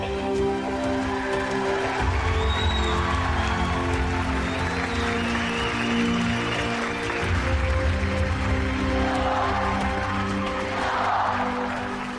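A large audience at a Pakistan Army show applauds for DCS Operations, dense continuous clapping lasting the whole stretch under a sustained musical tone.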